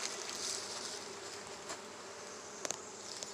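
A steady, soft buzzing of many honeybees at a top bar hive hums close by, with a few faint taps and clicks.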